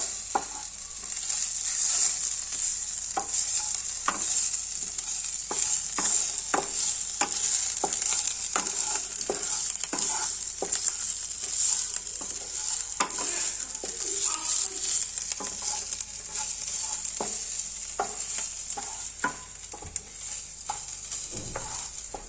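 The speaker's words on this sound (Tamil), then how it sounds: "நான் கொஞ்சம் கரம் மசாலா போடுறேன். நான் மிக்ஸ் பண்ணுறேன்." Garam masala being stirred into a frying vegetable mixture for cutlets in a home kitchen, with a steady sizzle and a run of regular spoon scrapes and taps against the pan throughout, close and fairly loud, no talking.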